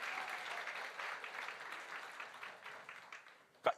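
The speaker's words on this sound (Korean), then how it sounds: "감사의 박수." A church congregation gives a round of thankful applause during a Sunday morning service, many hands clapping steadily at a soft, even level before trailing off, ending in one sharp louder knock.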